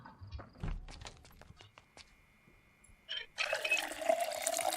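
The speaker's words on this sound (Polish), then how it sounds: "Może napełnimy mu butelkę wody tylko." A water bottle is filled from a tap in the Project Zomboid video game: a steady, fairly loud rush of running water starts partway through and continues to the end, after a few quieter clicks and taps.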